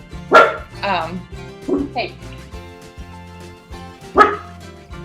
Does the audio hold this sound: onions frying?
no